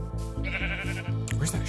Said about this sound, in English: Oh, it's up there, a cave sheep.